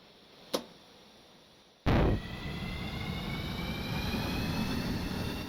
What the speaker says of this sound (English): I wouldn't be using turbines for power generation. They're just way too loud. It's like you're listening to, it sounds like a jet's going off.